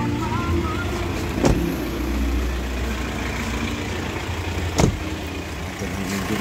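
A 2013 Foton Thunder pickup engine idles with a steady low rumble, heard up close, with a couple of brief louder knocks or clunks and no voices.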